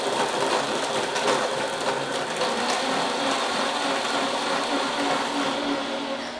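Blender whirring without its lid, giving a steady loud grinding, rattling mechanical drone that holds unbroken throughout, close by.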